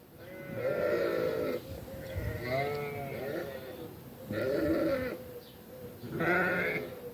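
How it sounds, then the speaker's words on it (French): Several loud, wavering sheep bleats played from an Alexa smart speaker, close by, each lasting about a second, separated by brief pauses. "Voici un son de mouton."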